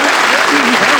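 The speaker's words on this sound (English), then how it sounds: "Give them a nice round of applause." Studio audience applause for contestants on the darts game show Bullseye, a loud, dense wash of clapping with a voice talking over it.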